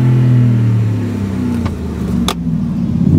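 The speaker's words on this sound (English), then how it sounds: "you've got a good sounding exhaust" A Ford Raptor pickup truck's engine and exhaust drone loudly nearby, revving up and down steadily, with a couple of faint clicks over the rumble.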